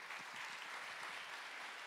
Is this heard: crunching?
no